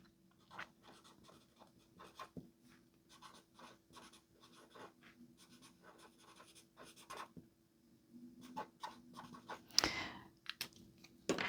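Pen scratching across a sheet of paper as someone writes, a soft, close, irregular scribbling that runs steadily with brief pauses and a louder rustle near the end, without any talking.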